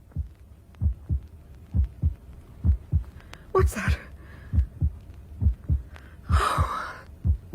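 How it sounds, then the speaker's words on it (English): Slow, steady heartbeat sound effect in an audio drama ghost play, roughly twelve soft thuds pulsing at an even rhythm, with a voice speaking briefly and two short breathy gasps over the beats. "how silly of me. My own heartbeat."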